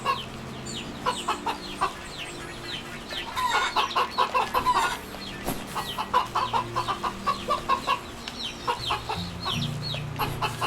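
Several chickens cluck in a video game in quick, irregular bursts over a steady background hum, the clucking close and moderately loud throughout.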